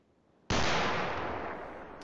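A heavy weapon in a video game mod fires one abrupt, booming shot after a quiet half second, followed by a long, broad rumbling tail that slowly fades.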